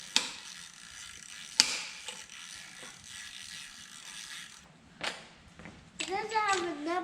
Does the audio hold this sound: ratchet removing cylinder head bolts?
yes